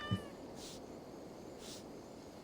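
A cat in Assassin's Creed Valhalla gives one short, faint meow at the start. A steady low background ambience continues throughout, with soft swells and no voices.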